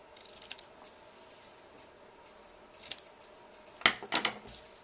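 Scissors trimming cardstock for a scallop treat purse paper craft, a few quiet snips and a sharper cluster of crisp cuts near the end, close by with no talking.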